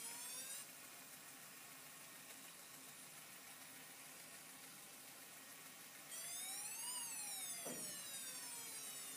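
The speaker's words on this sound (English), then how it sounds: "you can hear the siren going." Faller Car System model vehicle with a DC car decoder sounds its siren, a faint wailing tone that rises and falls over a constant motor hum, growing louder partway through with no talking.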